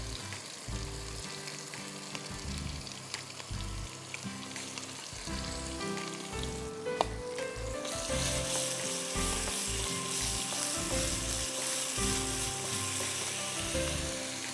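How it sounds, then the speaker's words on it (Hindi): Ginger, garlic and ground Kashmiri red chilli sizzle in a pan, a close, steady frying hiss that swells louder after a stir partway through, with no one speaking. "अब इसमें आप काफ़ी सारा चमचा भर के अदरक लहसुन शामिल करेंगे और यही वाली कश्मीरी लाल मिर्चें जो हमने पिसी थी ना, ये डालेंगे"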